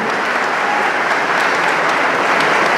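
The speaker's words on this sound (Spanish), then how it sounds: "lo reconocemos todos con un aplauso fuerte, generoso," Generous, loud applause from an audience at a CONAFE gathering, a steady dense wash of clapping that carries on without a break for the whole stretch.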